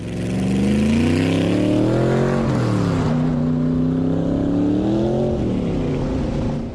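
A Cobra replica kit car's V8 engine revs hard and close, a loud throaty roar rising and falling through a couple of throttle blips, with no talking.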